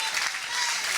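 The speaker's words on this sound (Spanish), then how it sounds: "denle el aplauso al Rey en este día" A church congregation bursts into brief, bright applause, a dense hiss of many clapping hands sustained evenly throughout.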